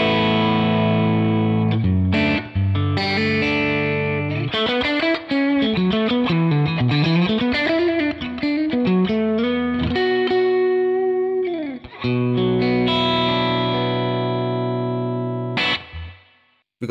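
Electric guitar played through a UAFX Del-Verb pedal on its spring reverb setting, a loud distorted riff with bending sustained notes and a splashy tail, no talking.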